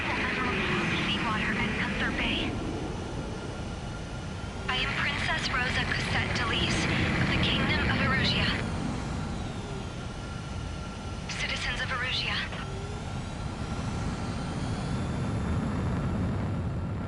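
Fighter jet engines during takeoff in the video game Ace Combat 7, a loud steady roar that holds throughout, with radio voices talking in bursts over it.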